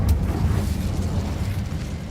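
The Incendio fire spell cast in Hogwarts Legacy, a sudden loud whooshing burst at the start that settles into a steady roaring rumble of flame, close and alone.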